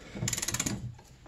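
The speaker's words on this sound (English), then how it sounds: "Just pulling that axle all the way in." An Arctic Cat ZR 600 EFI snowmobile axle being pulled all the way in gives a quick burst of about eight rapid metallic ratcheting clicks, close and fairly faint, lasting under half a second.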